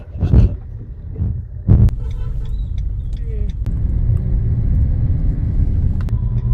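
Maruti Suzuki Brezza driving fast on an open road, heard from inside the car as a steady low engine and road rumble that builds, while someone talks excitedly over it in the first seconds.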